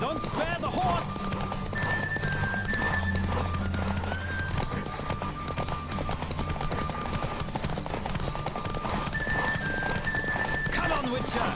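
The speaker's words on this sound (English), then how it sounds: "Don't spare the horse!" A horse gallops during a race in The Witcher video game, its rapid hoofbeats running under game music with occasional whinnies and voices talking over the ride.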